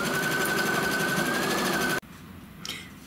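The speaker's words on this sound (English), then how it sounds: "so now it's going to stitch the satin stitch around the X's" An embroidery sewing machine stitches a satin stitch with a fast, steady whirring buzz of needle strokes for about two seconds, then stops abruptly, leaving a quiet pause and a brief faint clatter.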